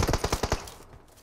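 Rapid burst of automatic gunfire from a mobile battle-royale shooter game, about seven sharp shots in quick rhythm over half a second, then fading into quiet.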